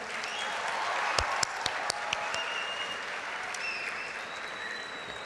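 Applause from the audience at a university convocation ceremony: dense, sustained clapping from a large crowd, with a few sharper individual claps standing out near the start before it settles into an even roar.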